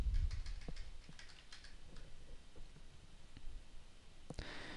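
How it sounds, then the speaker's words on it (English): Someone types a library barcode number on a computer keyboard: a quiet, close run of irregular key clicks over soft room hiss, ending with a slightly firmer click. "Here you're going to type in your library barcode number without spaces and click the Submit button."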